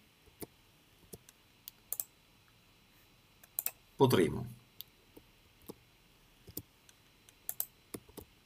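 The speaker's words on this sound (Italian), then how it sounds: "digitando la vecchia password." Sparse keyboard clicks of a password being typed on a computer, in irregular single taps and small clusters, close and quiet, with a brief spoken word partway through.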